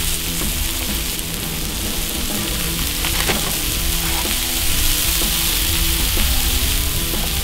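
Smashburger patties sizzle loudly on a hot griddle, a dense steady crackle and hiss filling the space with occasional scraping, no voices.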